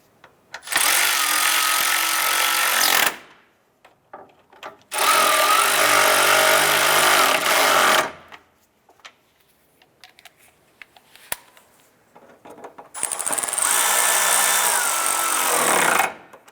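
Three loud bursts of a power tool snugging strut anchoring bolts on a 2011-2019 Ford Fiesta, each whirring for about three seconds with quiet gaps between, close to the listener and with no one talking.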